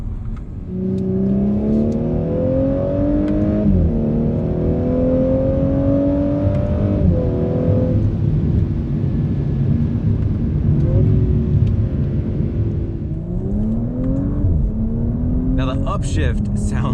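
A 2020 Audi S4 launches hard and accelerates, its engine and exhaust climbing through the revs with audible upshifts, loud and sustained, while someone talks over much of it.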